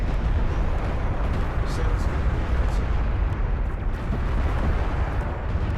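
An artillery barrage in the real-time strategy game Homeworld: Deserts of Kharak, heard as a dense, continuous roar of overlapping blasts and rumbling impacts under a commentator's voice.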